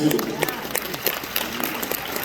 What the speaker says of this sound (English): Give yourself a round of applause for amazing art.